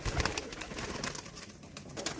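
Pigeon cooing from a red pigeon with yellow eyes in a fancier's loft, soft repeated coos over a busy, noisy background.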